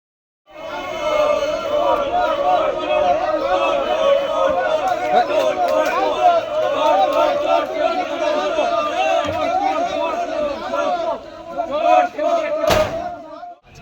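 BJP workers chant the slogan 'thief thief' at an arrested Trinamool leader as police lead him out of a station. The crowd shouts in a steady, dense rhythm close by, with a sharp bang near the end.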